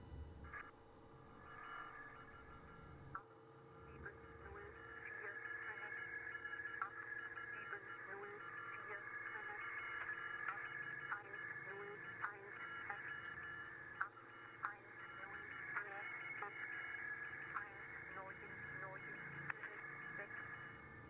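A numbers-station radio broadcast in the video game Signalis drones on with steady electronic tones and faint rhythmic pulses over static, quiet and sustained, with a voice speaking intermittently.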